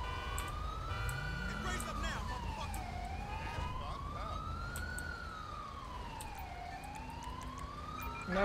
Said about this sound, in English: I'm going to turn the siren off.